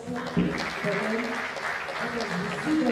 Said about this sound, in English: Please let us clap for him.